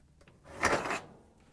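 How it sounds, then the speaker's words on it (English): A GE oven door is swung partly open and lifted off its hinges, one close scraping, sliding rub lasting about half a second. "Open the oven door about a quarter of the way and pull it off the hinges."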